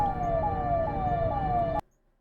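A small ambulance siren in Indian traffic repeats a rising whoop about four times, loud and near over a low engine rumble, then cuts off abruptly into near silence.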